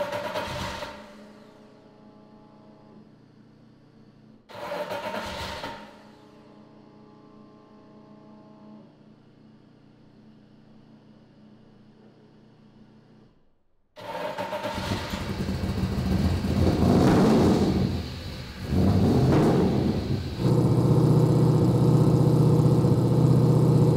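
A drift car's engine idles with a steady hum, is switched off, then fires up again. It settles into loud, rough revving with repeated throttle blips before holding a high, sustained roar, alone without talk.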